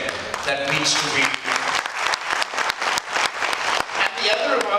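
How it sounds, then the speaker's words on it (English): An audience at a Kolkata book launch applauding, dense sustained clapping from a full room that stays loud throughout, with voices faintly mixed into the crowd. "Calcutta always claps for itself"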